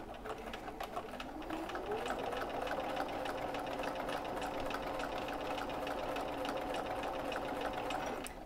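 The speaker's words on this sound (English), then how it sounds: "So when we get to the second corner, we're going to stitch right out to it." A sewing machine stitches a recessed zipper panel with a fast, steady, even mechanical whirring and rapid ticking that runs evenly, close and clear.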